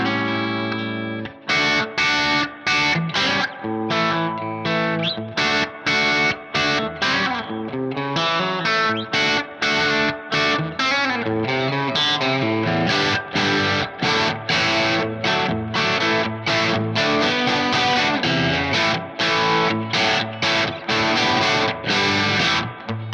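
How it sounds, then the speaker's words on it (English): An Aria Pro II 615-MK2 electric guitar played through heavy distortion, chords and riffs ringing out loud and gritty with a crunchy, sustained tone. "let's whack on a little bit of gain and let's try this guitar with a little more dirt"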